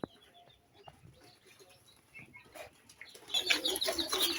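Chicks peep in a brooding poultry farm, faint high chirps early that swell into a dense, close chorus of cheeping over the last second or so.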